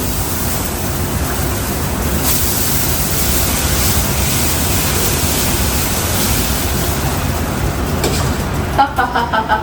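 Dosa batter sizzles on a hot pan with a loud, constant hiss that fills the whole stretch, with a few small crackles and pops near the end.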